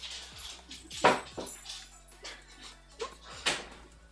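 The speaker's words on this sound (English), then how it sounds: "Okay, no more whining dogs." A dog whimpers and yips in short, high bursts at a moderate distance indoors, with faint household noise between the cries.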